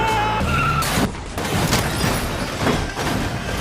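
Cars race and skid in a street-racing film scene, with loud engine roar, squealing tires and a rough rush of road noise over a few seconds, no talk.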